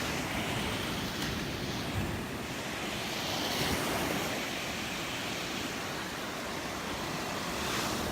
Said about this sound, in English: this is what an average day looks like in Destin in terms of waves